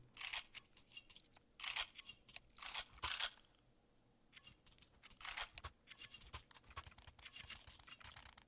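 Quiet keyboard clicking during an esports match tech pause, irregular clusters of sharp clicks and taps with a short lull near the middle.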